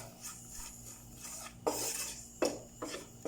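A metal spoon stirs pepper powder and garam masala together in a pan for kappa kalmas, a close, quiet scraping with a few sharper clanks against the pan, and no talk.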